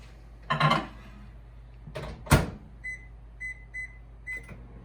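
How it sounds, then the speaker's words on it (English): A microwave oven being loaded for a cooking demonstration at a southern Ohio farm show: a couple of door clunks, then a row of short, even keypad beeps over a low steady hum, fairly close. "And Luke, if you want to put this in the microwave, and we'll start out with like 2 minutes"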